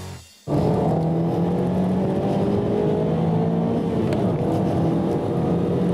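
A car accelerates hard with the throttle held open into a spin while cornering, its engine roaring loud and close with steady rising harmonics after a short quiet start.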